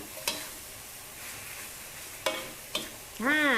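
Squid stir-fried in red curry paste with torn kaffir lime leaves and fresh bamboo shoots, a soft continuous sizzle broken by a few sharp spatula scrapes against the pan, ending in a brief tonal squeak.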